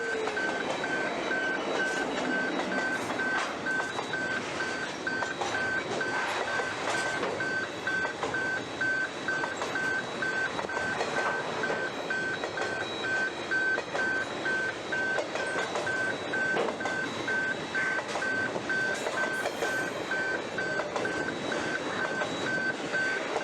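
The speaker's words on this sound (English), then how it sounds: "I ventured to Giru to catch 82P9 as it eases its way into the loop" Queensland freight train 82P9 eases into a crossing loop at Giru, a steady low rumble and rolling noise running throughout with a sustained high warning tone, no voices.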